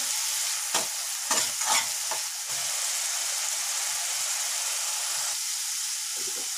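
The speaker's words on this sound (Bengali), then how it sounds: "দিয়ে এটাকে ভালো করে কষতে থাকবো।" Onion, tomato and garlic paste sauté in a pan, a constant close sizzle broken early on by several short stirring scrapes before settling into an even frying hiss.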